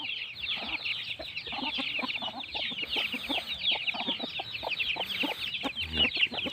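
Free-range domestic chickens cluck busily while being fed in the morning, with many overlapping calls from close by over a steady background of flock chatter.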